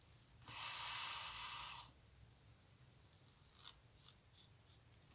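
A Temu felt-tip marker squeaks and scratches across paper in one soft stroke of about a second and a half, followed by faint light taps in a quiet room.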